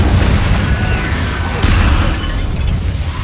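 Confringo blasting spell exploding in Hogwarts Legacy, a loud booming burst with a rumbling low tail and a second thud partway through, close and dense.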